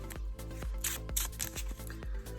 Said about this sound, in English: I wonder how many people I'm upsetting by my shuffling right now.